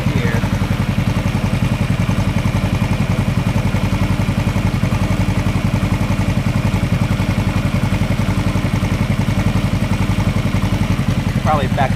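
A Yamaha XS500 motorcycle engine idles close by, a loud, steady, rapid even chugging that holds without a break.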